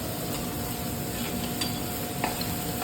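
Tomatoes sizzle continuously in a pan while a spoon stirs them with occasional soft scrapes and clinks. The sound is close and moderately loud, with no voices.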